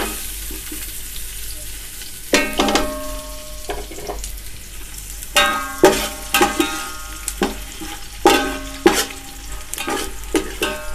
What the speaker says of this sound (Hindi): अब इसमें हम एक प्याली ऑयल शामिल करेंगे। चार मीडियम साइज़ की प्याज ये कटी हुई है, ये शामिल करेंगे इसमें।